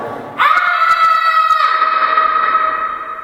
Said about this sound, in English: the first thing he told me to do was scream